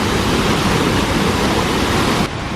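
Steady, loud roar of falling water at Minneopa Creek falls in Minneopa State Park, Mankato, Minnesota, a dense continuous rush heard up close that drops slightly in level just before the end.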